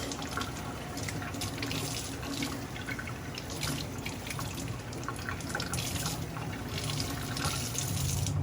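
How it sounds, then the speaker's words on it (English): A tap runs steadily to wet shoe insoles, a continuous close splashing hiss with small spattering variations as the water hits, with no talk throughout. "I'm going to wet the insoles."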